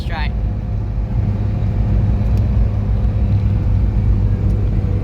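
A Toyota Hilux engine drones steadily from inside the cab while driving, a low continuous rumble that swells slightly as the driver upshifts, with brief voices near the start.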